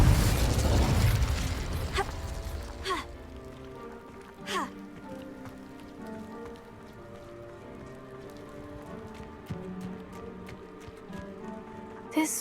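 Incendio fire spell cast in Hogwarts Legacy: a loud fiery whoosh bursts out at the start and fades, followed by scattered crackles, magical chimes and sharp pops over a low ambient bed.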